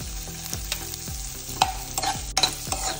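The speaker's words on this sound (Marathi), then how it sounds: "कांदो बरो ब्राऊन जायसर आमकां भाजून घेवपाक जाय।" Chopped onion frying in oil in a pan with ginger and garlic for a Goan mackerel dish, a constant close sizzle broken by several sharp spatula scrapes and taps in quick succession.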